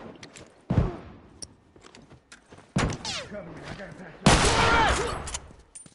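Gunfire in The Last of Us, several loud sharp bursts of shots with quieter gaps between, close and punchy, with game voices speaking around them.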